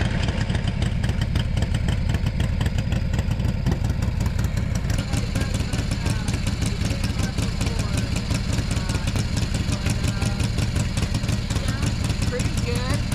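A Harley-Davidson Shovelhead motorcycle engine runs steadily with a loud, throbbing, rhythmic idle throughout, close by, while a voice talks over it.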